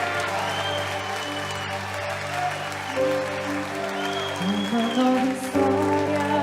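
A church congregation claps continuously while sustained musical tones ring out, the applause a steady wash beneath the music and growing slightly louder toward the end.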